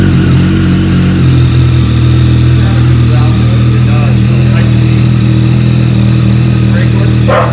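A motorcycle fitted with a lightweight battery runs steadily at a loud, close idle, its low engine hum constant throughout with faint clicks and small mechanical noises on top.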